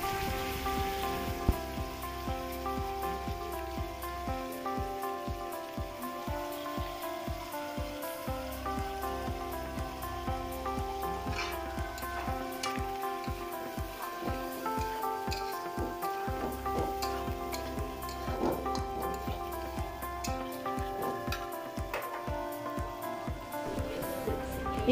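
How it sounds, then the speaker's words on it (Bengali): Shrimp frying in a pan for pasta: a steady, rain-like crackling sizzle continues throughout, with a tonal background melody underneath. "এখন আমি চিংড়ি মাছটাকেও ভালোভাবে ভেজে নেব"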